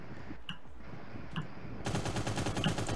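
Gunfire in a battle royale game: a few isolated shots early on, then a sustained rattle of rapid automatic fire in the final second, fairly close and loud.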